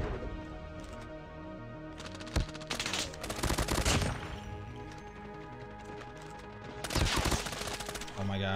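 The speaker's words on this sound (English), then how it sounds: "There's a lot of grenades coming in." Grenades go off in Call of Duty Mobile amid bursts of gunfire: several loud, sharp blasts and rattling volleys in clusters with quieter gaps between.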